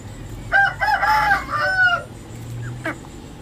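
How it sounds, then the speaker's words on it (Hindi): An aseel hen clucks and calls close by in a short, loud burst of several strained, rising notes, followed by a couple of quieter clucks. "सबसे प्यारी मुझे ये शहजादी थी, सबसे अच्छी मुर्गी थी मेरी"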